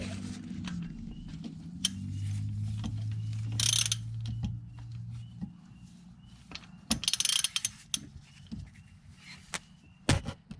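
A ratchet tightens a bolt on a Yamaha Grizzly ATV during oil and filter maintenance, with a low hum early on, then quick bursts of metallic clicking, close and without talk.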